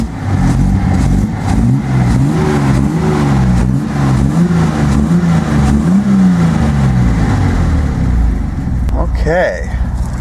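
Datsun 240Z engine running a little rough and lean, with a steady loud drone that shakes and rises in short revs, under continuous talk.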